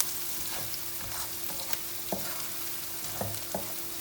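Onions frying in a pan for aloo paratha, a steady close sizzle broken by a few sharp stirring scrapes and clicks, with no talking.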